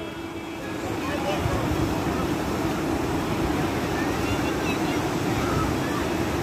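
Sea surf rolling onto the beach at Vizag, a steady broadband wash of breaking waves mixed with wind buffeting the microphone, continuous and fairly loud throughout, with people talking faintly over it.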